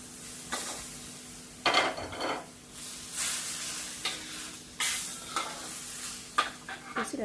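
Leek being stir-fried for chap chay in a pan, with bursts of loud sizzling and scraping spatula strokes coming in irregular waves over a steady low background hum.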